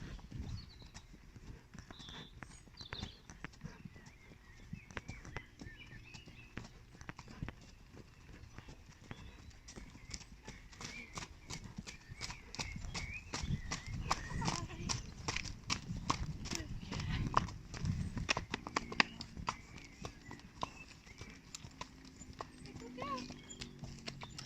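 Horses walk during a ride, their hooves clip-clopping in a steady, moderately close rhythm that grows a little louder midway, with faint background sounds and speech at times.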